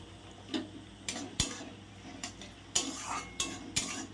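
Metal spoon scraping and tapping in a pan while garlic, onion and chilli are stirred, a series of sharp clinks and scrapes at an uneven rhythm, close and moderately loud with no talking.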